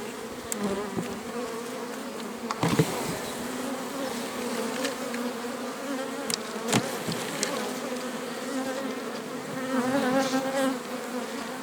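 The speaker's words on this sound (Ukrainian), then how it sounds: "Небагато бджіл, але все-таки є і і розвиваються" Bees buzz steadily around a hive on a frosty morning, a dense continuous drone of many insects close by, with occasional louder passes as single bees fly near and no talking.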